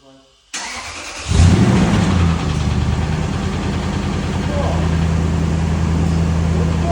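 A Lexus GX470 engine cranks and catches, then settles into a loud, steady idle with a low rumble close by, and people talk over it.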